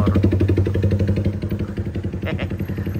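A motorcycle engine runs close by with a steady pulsing, clattering rumble that holds evenly for a few seconds, with faint background noise on top.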